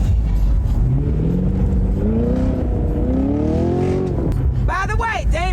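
A 2024 Chevy Camaro 2SS with a manual transmission hums at a steady engine drone. Near the end comes a quick series of rising rev-matching throttle blips during a downshift, and a person talks throughout.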